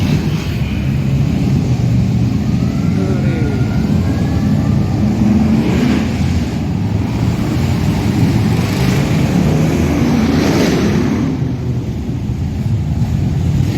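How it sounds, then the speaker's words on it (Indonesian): Motorcycles touring past on a Jakarta street, a continuous loud rumble of engines and traffic roar that swells and fades slightly, with no talk. "motor-motor ini lagi touring"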